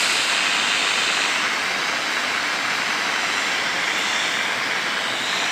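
Steady, dense hiss of static from a homemade MW AM radio fills the whole stretch, loud and unbroken, with no voices or other sounds over it.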